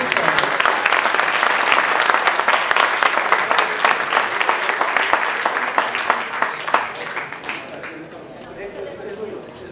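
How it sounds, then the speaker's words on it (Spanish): A sustained, dense round of applause for wine producers at an awards ceremony for ancestral wines, steady and full before tapering off toward the end. "Démosle un fuerte aplauso a los productores."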